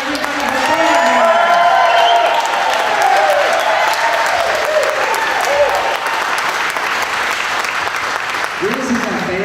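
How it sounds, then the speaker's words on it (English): At a Corvette giveaway award ceremony in Clearwater, Florida, an audience breaks into sustained applause, a dense, loud roar of many hands clapping that holds steady for several seconds while a voice carries on over it. "Big round of applause"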